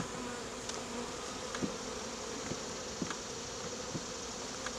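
Honeybees buzz in a steady, quiet drone while beehives are combined, with a few faint knocks and taps from the frames.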